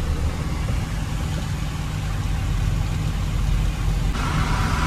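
Vehicles idling in a traffic jam at a railway crossing, a steady low engine rumble with layered motors holding constant throughout, no voices.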